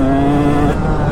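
Two-stroke motocross bike engine in the woods, loud and close, holding a steady rough note that sags and bogs near the end.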